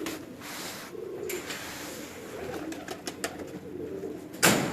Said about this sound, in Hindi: ये कबूतर ये घर के सारे कबूतर घर के ही हैं।